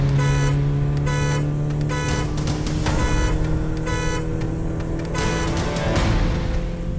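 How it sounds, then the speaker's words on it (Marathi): A car horn honks loudly and close by in repeated blasts of uneven length over a steady engine hum, with no talking. "हॉर्न का मारताय ते?"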